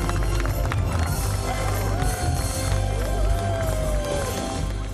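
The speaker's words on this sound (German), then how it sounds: "Dean, dein Applaus." A festival crowd applauds and cheers for a high-wire acrobatic team performing outdoors on a public square, sustained dense clapping and cheering with a voice heard amid the noise.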